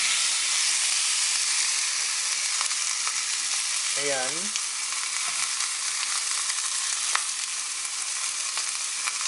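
Piri piri chicken sizzles loudly on a hot grill, a dense continuous frying hiss with a brief whistling tone midway and a short spoken word.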